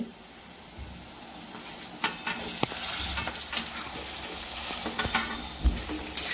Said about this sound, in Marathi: त्याच्यात बटाटे टाकून असं फोडण्यामध्ये छान मिक्स करून घ्यायचे